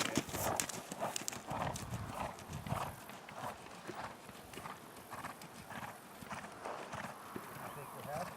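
Horse hooves clip-clopping in a regular rhythm during a riding lesson, fairly near and moderately loud, with an instructor talking over the steady beat.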